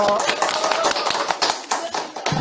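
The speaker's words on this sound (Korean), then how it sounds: "자, 박수로 마치겠습니다." An audience applauding to close a panel discussion, a burst of close, brisk clapping from a modest group that holds steady before tapering off.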